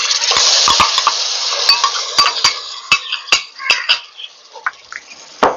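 Ginger, garlic and green chilli paste is stirred in a pan, with a soft sizzle and repeated scraping clinks of a spoon against the metal in an uneven rhythm, loud and close.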